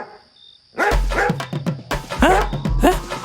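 A dog barks loudly and repeatedly, close by, with sharp yips and a few whimpering notes after a brief quiet start.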